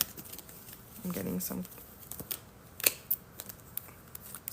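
Quick papery riffling and card slaps in short bursts as tarot cards are shuffled, with a person talking softly in between.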